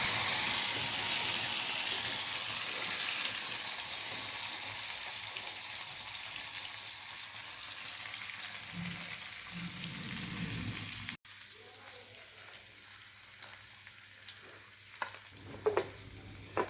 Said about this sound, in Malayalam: വറവിടുമ്പോൾ ഞാൻ ആദ്യം തന്നെ വെണ്ടയാണ് ഇട്ട് കൊടുക്കുന്നത്